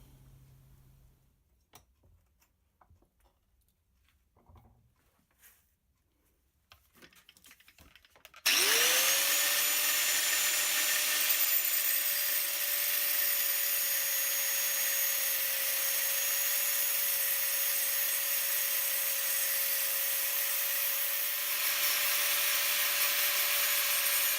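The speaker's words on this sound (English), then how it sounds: "cut out a piece of steel to weld on there" A steel piece being cut for a welded repair on a Yamaha XVS 650 bobber seat build: after quiet shop sounds, a loud, steady high-pitched grinding whine starts and runs continuously to the end.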